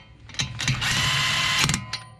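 A power tool runs on the lug nuts holding the front brake rotor of a 2016-2020 Lexus GS350, with short mechanical bursts and a sustained rattling whir close by, then a final quick burst.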